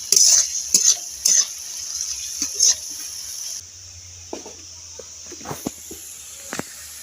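Flattened rice (chira) fries in a salted pan while a utensil scrapes and stirs through it in quick bursts, with a faint sizzle that quiets partway through.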